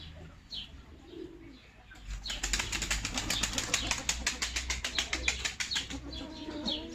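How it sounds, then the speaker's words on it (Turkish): Pigeons in a backyard loft flap their wings in a rapid, loud series of beats that build after a couple of seconds and continue steadily, with soft cooing and chirps from the flock in the background. "çok güzel kanat sesleri var"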